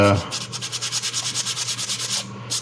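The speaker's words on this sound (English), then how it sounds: "So I'm just going to do dry sanding." A primed 3D print is dry-sanded by hand in quick, even back-and-forth strokes, a rhythmic scratchy rasp repeating about eight times a second, close and clear.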